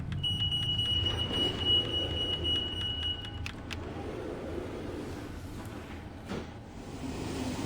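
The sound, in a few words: incessant beeping alarm in Exit 8 clone video game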